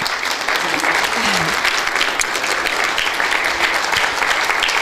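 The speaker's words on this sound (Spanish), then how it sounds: "¿Por qué no le da un aplauso al Señor?" Women's church gathering applauding together, loud close continuous clapping with faint voices mixed in throughout.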